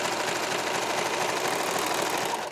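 A sewing machine stitches the side seam of a racer-back knit top, a steady, close, rapid mechanical whir that runs continuously and slows slightly at the very end.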